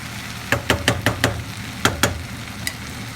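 A spoon or spatula knocks against a pan as okra cooking with Himalayan salt is stirred, giving about eight sharp clacks in a quick uneven rhythm over a faint sizzle.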